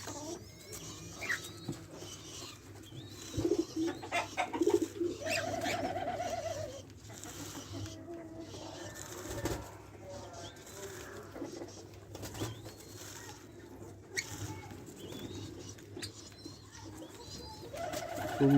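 American doves cooing, soft and low, with a few repeated coos against a faint background; a voice talks at times.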